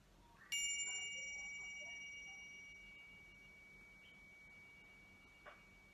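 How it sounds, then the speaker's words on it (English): A single bell is struck once to open a vinyasa yoga class, ringing out with a bright, clear metallic tone that slowly fades over several seconds, followed by a faint second tap near the end. "We'll begin and end with the sound of this bell."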